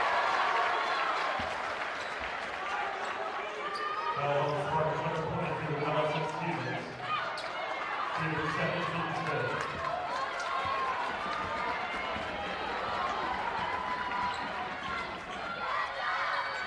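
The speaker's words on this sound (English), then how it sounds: "Let's listen to the crowd in here." Crowd noise fills the gym at a girls high school basketball regional game, a steady roar of cheering and chatter with sneaker squeaks and ball bounces, while a commentator talks over it.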